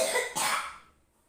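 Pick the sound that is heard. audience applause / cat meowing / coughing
coughing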